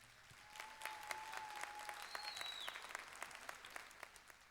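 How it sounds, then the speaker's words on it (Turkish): Studio audience on a Turkish TV talent show claps at a moderate distance, a steady patter of hands with scattered sharper claps, lasting several seconds. "Bir alkış alalım lütfen."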